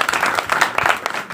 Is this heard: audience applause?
yes